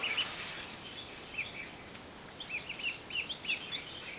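Chickens and ducks in a pen under a heat lamp, with a chicken flapping and nearly taking flight; short chirps and clucks come in scattered bursts over a steady low hiss, moderately close.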